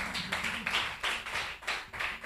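A church congregation claps in a steady, even rhythm, the crisp claps filling the room at a brisk pace with no talk.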